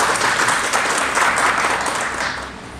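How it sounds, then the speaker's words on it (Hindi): A school audience breaks into sustained applause for the students at a school event, a dense steady clatter of many hands that tapers slightly toward the end. "तो जोरदार तालियां हमारे बच्चों के लिए।"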